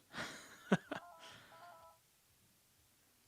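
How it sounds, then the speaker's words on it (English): A telephone gives off a faint, brief electronic ringing tone, a short warbling burst after some soft clatter, quiet and distant with a low background hum. "somebody better answer that phone"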